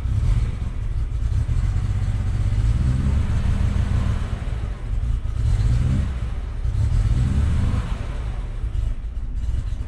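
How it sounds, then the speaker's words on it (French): A 1975 BMW 5 Series engine is revved up, a loud, close, rough mechanical roar that swells and eases in a few pushes of the throttle, with a slight clatter and no talk. "Attends, laisse-moi accélérer un dernier coup là"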